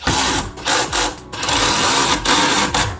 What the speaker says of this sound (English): since my drill is not powerful enough to help me